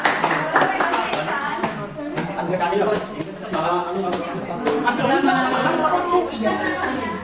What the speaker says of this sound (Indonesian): tepuk tangan buat Ipan ya